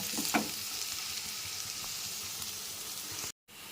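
Garlic and onion fry steadily in a pan, a continuous close hiss of sizzling oil with a few stirring scrapes, cutting off abruptly near the end.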